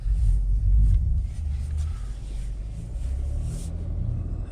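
A Chevy Blazer drives through snow in all-wheel drive, its engine a deep, close rumble that swells at the start and then settles into a steady drone.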